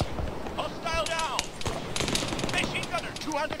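Gunfire from the military shooter game ArmA 3 during a tactical campaign mission, with several sharp bursts and single shots at mid distance, spread through the stretch over a busy layer of game noise and voice chatter.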